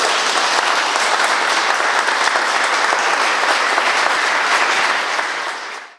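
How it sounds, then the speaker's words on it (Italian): Enthusiastic applause for a newly married couple at a church wedding, a loud dense burst of clapping that holds steady for about six seconds, then fades quickly. "Biagio e Concetta sono sposi in Cristo, facciamo un bel applauso per loro."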